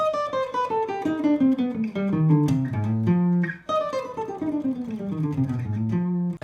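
A fast run of single plucked jazz guitar notes descending in quick succession in George Benson style, a brief pause, then a second similar descending phrase, bright and close.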